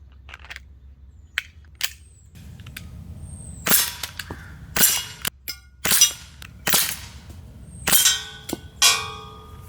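A Glock 19 Gen 5 MOS CO2 blowback .177 BB pistol fires at cans from seven yards away, giving a run of sharp, close cracks at an irregular pace, some followed by small metallic clinks and pings from the targets.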